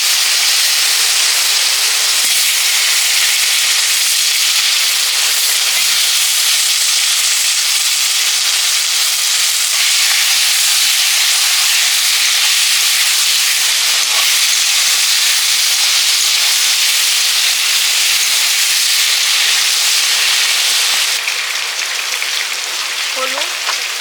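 Cubed potato and green banana go into hot oil with fried bay leaf, dried chilli and five-spice tempering, giving a loud, continuous sizzle and hiss that holds steady for the whole stretch.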